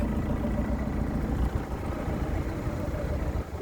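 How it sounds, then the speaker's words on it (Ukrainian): A 2008 Opel Zafira 1.7 CDTI Euro 4 diesel engine idles with a steady, low, even rumble, faint and continuous, with no voices. "Двигун мурчить."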